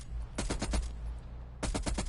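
A light machine gun fires in Call of Duty Cold War: two close, rapid bursts of about half a dozen shots each, separated by a short pause, with no talking.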